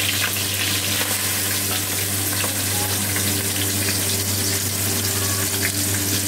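Food frying in about four spoons of oil in a home kitchen pan, a steady, even sizzle held close throughout with a low background hum and no talking.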